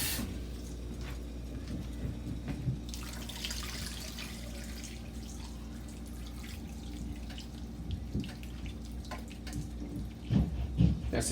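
Water trickles and drips into a small pot while fufu is being made for Liberian pepper soup, a steady faint pour under kitchen background noise with a few louder splashes near the end.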